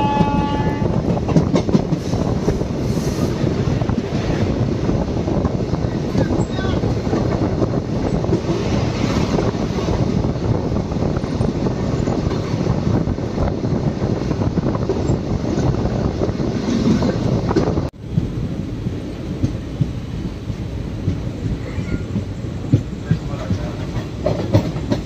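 A Palakkad–Chennai superfast express crosses another train near a station, heard from on board as a loud, continuous rumble and clatter of wheels and wind that shifts abruptly partway through.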